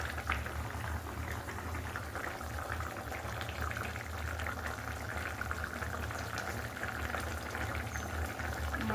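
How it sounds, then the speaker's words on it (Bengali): Taro and potatoes boil in a pot for a fish gravy, with a steady bubbling, simmering hiss and a low hum underneath, continuous and close. "আমার কচু আর আলু প্রায় সেদ্ধ হয়ে এসেছে।"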